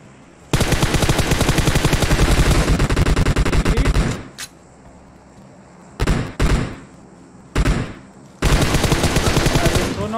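Loud automatic gunfire in a video game, a long sustained burst followed by short separate volleys and a final burst, close and dominant.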